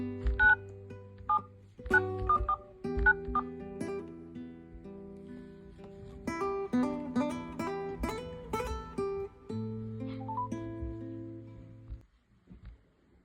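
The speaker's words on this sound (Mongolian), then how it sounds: "За одоо би эхчийнхаа утас руу залгаадах юм." Telephone keypad tones as a number is dialed, a quick series of beeps, then a steady ringback tone repeating as the call rings, clear and close with no talking.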